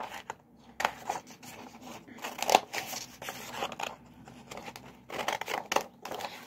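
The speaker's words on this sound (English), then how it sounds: "you're going to cut them into the shape of a crown" Scissors snipping paper into a crown shape, a series of short, crisp cuts and rustles at irregular intervals, close and moderately loud against a quiet room.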